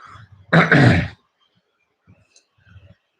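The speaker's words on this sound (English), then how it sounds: "Let me clear my throat." One loud, rough throat clearing near the mic, followed by quiet breaths and small mouth noises in an otherwise silent room.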